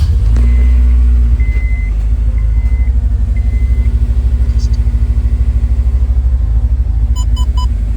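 A Honda S2000 engine with a cylinder 1 misfire cranks briefly and then runs with a loud, uneven, pulsing rumble close by, with faint beeps near the end.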